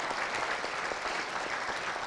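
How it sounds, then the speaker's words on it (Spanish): Steady applause from a church congregation, dense clapping held evenly throughout, fairly faint and distant. "un fuerte aplauso para el Señor"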